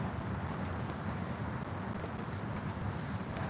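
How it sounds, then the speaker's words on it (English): Crickets held in a container outdoors in the evening, with a steady, faint high chirping trill over a noisy background hiss; no one speaks. "crickets, I release them. They'll fly away."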